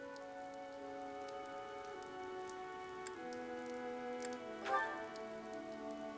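Heavy rain falls steadily throughout the battle in Fire Emblem: Three Houses. A constant hiss sits under sustained background music tones, with no voices.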